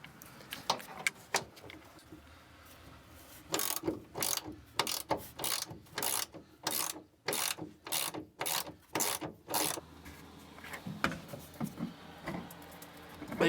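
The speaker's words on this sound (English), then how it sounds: "17mm socket and a ratchet." A ratchet turning a 17mm socket on the bumper bolts of a Volkswagen Mk1, a close series of quick clicking bursts, sparse at first then dense and rhythmic in the middle before tapering off.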